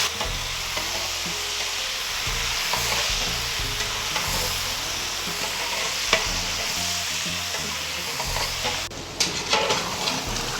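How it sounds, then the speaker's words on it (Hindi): Six kilograms of chicken frying on a high flame in a large karahi, a loud, continuous crackling sizzle with repeated stirring scrapes throughout, up close and without any voices. "2 से 3 मिनट तक हाई फ्लेम पे इसको फ्राई करेंगे।"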